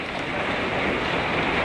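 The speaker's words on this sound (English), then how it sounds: "I'd like to report nickel-sized hail in Evanston, Illinois occurring right now." Nickel-sized hail falling in Evanston, Illinois during a severe thunderstorm, heard as a dense, continuous pelting roar of hard impacts, loud and steady throughout with no talking.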